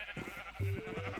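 Sheep in Minecraft give a run of short, nasal, wavering bleats, close and moderately loud, repeated several times in quick succession.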